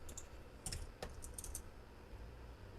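Keystrokes on a computer keyboard while entering SQL code, a few quick clustered clicks with short pauses between bursts, close and fairly quiet, no talking.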